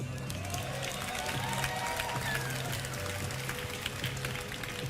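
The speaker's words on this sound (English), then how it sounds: "Crowd showing a lot of support for both of these players" A DreamHack Winter 2013 StarCraft tournament crowd applauds and cheers steadily throughout, a dense wash of clapping and voices at an even, fairly loud level.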